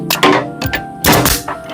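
A nail gun fires nails into maple for a custom drill press cabinet, giving three sharp, close thwacks spaced through a short stretch with no talking.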